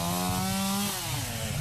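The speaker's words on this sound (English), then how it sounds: "we've got big chainsaws that are especially built just for ice sawing" A large chainsaw built for cutting ice runs in a loud, steady, close-up drone outdoors in a Minnesota winter, its engine pitch dipping slightly partway through.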